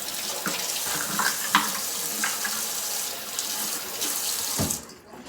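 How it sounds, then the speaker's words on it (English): A kitchen faucet runs as someone washes their hands, a loud, continuous gush of water with small splashes, which stops abruptly just before the end. "I gotta wash my hands."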